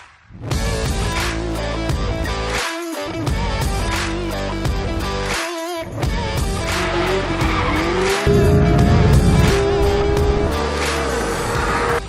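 A Porsche GT3 RS engine on the Nürburgring Grand Prix circuit roars loudly and continuously at high revs, with sharp gear shifts, brief cuts and tire squeal as it accelerates hard.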